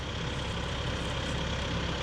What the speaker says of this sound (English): Letting the tractor cool down.